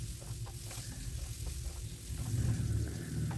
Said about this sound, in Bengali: এদিকে আমি আবারও নেড়ে নেব এখন সুন্দর করে